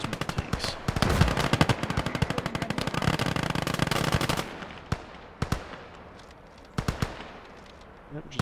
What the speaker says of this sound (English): keep sending your infantry into the machine guns